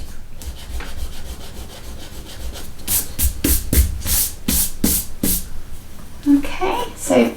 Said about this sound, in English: you can then just rub out any lines that you don't need